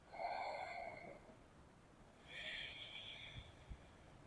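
A deep inhale during slow vinyasa yoga breathing by the sea, one long airy breath near the mic, then a pause and a second breath, with faint soft thumps at the end.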